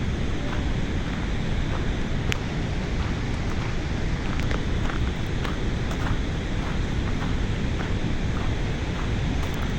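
Loud, constant roar of rushing water at the Marsyangdi hydropower dam fills every moment, a dense wall of noise close by with no talking.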